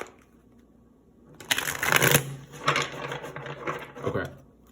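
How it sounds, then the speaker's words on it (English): Tarot cards being shuffled in a burst of riffling, papery rustle with a few soft slaps, close and fairly loud after a quiet start, no talk over it. "Let's get one more shuffle."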